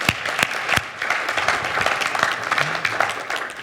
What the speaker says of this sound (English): Let's give a round of applause for all those people.